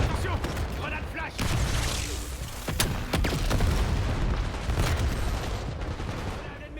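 A flash grenade goes off during Call of Duty Black Ops 7 multiplayer, its sharp bang hitting hard amid steady rattling gunfire and booming blasts, with in-game voice callouts running over the dense battle noise.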